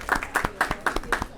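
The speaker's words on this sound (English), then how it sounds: "So a round of applause for the Board of Trustees" A small audience applauds the Board of Trustees, with a handful of distinct, uneven claps coming in loose bursts at moderate volume with a hint of room echo.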